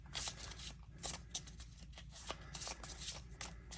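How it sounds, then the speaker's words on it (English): A deck of Pokemon cards is shuffled by hand in quick, rhythmic riffles, faint and close, a steady run of crisp snapping bursts with no talking. "and then shuffle your deck afterwards"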